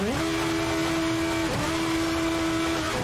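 A race car engine in a video game (VRC Formula Beta 2008) screams at high revs with a steady whine as the wheels spin at launch, dipping briefly as it shifts up, loud and close.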